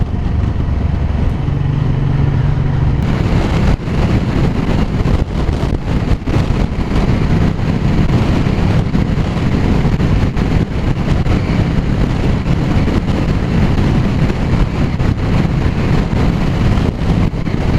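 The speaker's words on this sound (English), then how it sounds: "I can just hear that exhaust just burbling back at me" A Honda NT700 motorcycle exhaust burbles steadily at close range, bouncing back off roadside hedgerows, its low engine rumble mixed with heavy wind buffeting across the microphone.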